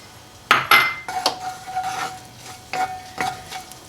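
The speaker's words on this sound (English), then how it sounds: "we're just going to saute the garlic for just a minute or so until it starts to smell fragrant" Two cloves of chopped garlic sauté in olive oil in a pan, a faint sizzle under a few sharp utensil clanks and stirring scrapes, close by with no voices.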